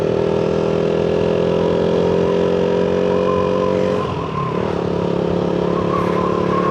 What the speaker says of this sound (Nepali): अहिलेको ड्युकको भन्दा यो पुरानो ड्युकको साउन्ड चाहिँ राम्रो